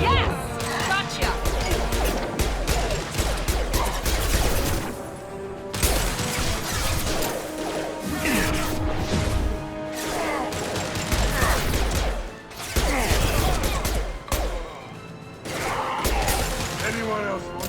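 Heavy gunfire in the sci-fi shooter game Mass Effect 2, loud sustained bursts of rapid shots and crashing impacts in long volleys with brief pauses, with a voice speaking over the firefight.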